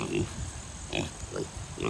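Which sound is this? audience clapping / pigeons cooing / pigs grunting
pigs grunting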